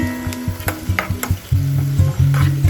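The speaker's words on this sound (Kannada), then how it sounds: "ಆಮೇಲೆ ಆನಿಯನ್ನ ಹಾಕೋಬೇಕು. ಈ ಆನಿಯನ್ ಚೆನ್ನಾಗಿ ಬ್ರೌನಿಷ್ ಬರೋವರೆಗೂ ಇದನ್ನ ಚೆನ್ನಾಗಿ ಫ್ರೈ ಮಾಡಿಕೊಂಡು" Onions and green chillies frying in hot oil, a crackling sizzle punctuated by repeated scraping knocks of a stirring utensil against the pan, close and fairly loud.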